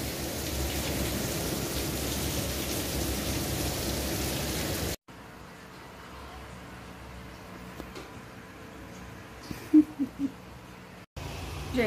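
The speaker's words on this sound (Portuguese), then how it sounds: "do nada começou a chover, ó. Tava um tempo limpo. Começou a chover." A sudden rain shower after clear weather makes a dense, steady hiss for the first few seconds, then gives way to a quieter, sparser stretch of patter and ambient noise.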